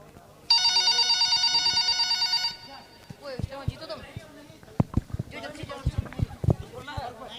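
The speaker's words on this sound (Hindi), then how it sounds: "अचानक अपने बड़े बेटे असलम का फोन आता है।" A telephone rings with a fast trilling electronic bell for about two seconds, loud and close, then stops, followed by footsteps and knocking sounds.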